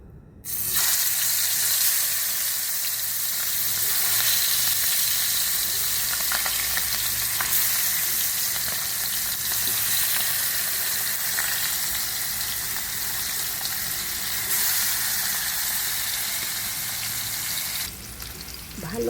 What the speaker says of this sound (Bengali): মশলা মাখিয়ে আমি গরম তেলে ফ্রাই প্যানে দিয়ে নিব